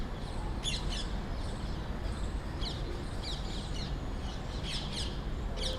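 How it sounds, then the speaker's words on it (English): Birds chirping outdoors in a city, scattered short tweets coming from a distance over a constant broad background hiss of urban ambience, faint against the noise. "Look at the birds around."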